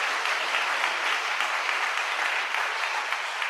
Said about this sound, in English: She deserves at least a round of applause.